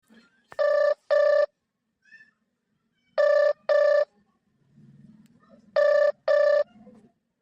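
A telephone rings in three pairs of loud electronic double trills, evenly spaced, with faint background sounds between the rings.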